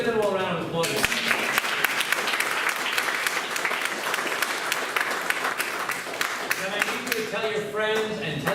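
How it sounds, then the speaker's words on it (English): An audience at a town hall breaks into applause. The dense clapping swells and holds steady for several seconds, with a voice speaking just before and returning as it fades. "Let's give them all a round of applause."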